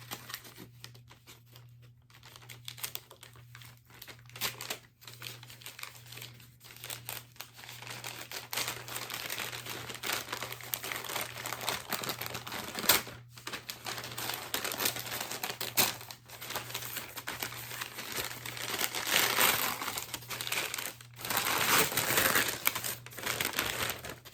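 A mystery comic bundle package is torn open and unwrapped, giving a long stretch of crinkling and rustling packaging with scattered louder tears and crumples, close up and alone without talk, growing busier toward the end.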